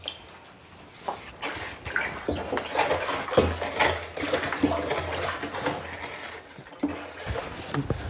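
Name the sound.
stirring liquid biofertilizer in a barrel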